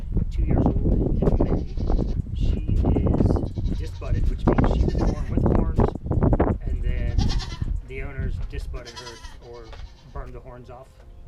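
Goat bleating repeatedly, loud and close, a series of wavering cries over about eleven seconds, with a person talking between and over the calls.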